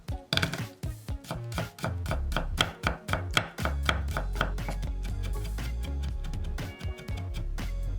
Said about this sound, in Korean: 빠지면 안되는 마늘 2개는 다졌습니다